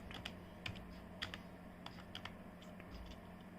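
Soft, irregular clicks of fingers typing on a computer keyboard, a few quick keystrokes at a time, faint and close over a low steady hum.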